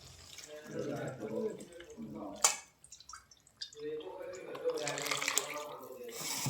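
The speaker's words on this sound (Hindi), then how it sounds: "फिर इसमें थोड़ा सा ये पानी डालूंगी। ये पानी है गट्टे उबाले थे वही पानी है" Water left over from boiling besan gatte is poured into a cooking mixture with a splashing, trickling sound and a few drips, heard close up while someone talks over it.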